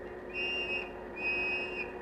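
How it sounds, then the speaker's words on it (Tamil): Two shrill police whistle blasts, each just under a second long and separated by a short gap, sounding loud and steady against a faint background, with no talking. "என்னது விசில் சத்தம் கேக்குது? Police whistle."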